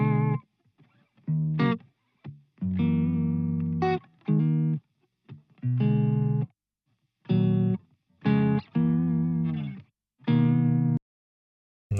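Solo electric guitar track built from an original demo, played through effects with distortion and chorus, heard as separate phrases with short gaps between them, up close and with no voices.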